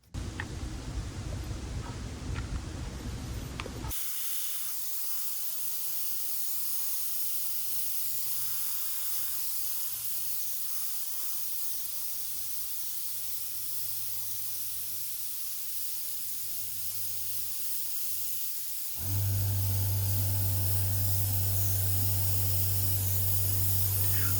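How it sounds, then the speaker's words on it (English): An airbrush compressor runs in the background of a painting session, giving a constant airy hiss. Near the end a louder, steady low motor hum kicks in, all without speech. "That sound that you hear occasionally going on in the background happens to be my compressor"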